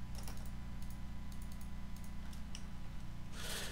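Computer keyboard typing during a Minecraft SkyWars session, quick irregular key clicks over a steady low hum, fairly faint, ending in a louder burst of clatter.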